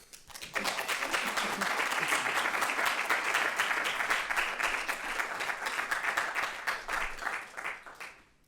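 Sustained audience applause fills a lecture hall at a museum talk, a dense, even wash of clapping that rises quickly, holds for several seconds, then thins out toward the end.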